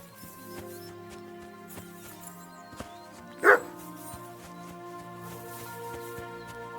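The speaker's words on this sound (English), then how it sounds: "Barking." A single short dog bark rings out mid-clip in Kingdom Come: Deliverance II, moderately close and sharp over a quiet sustained musical score, with nothing else around it.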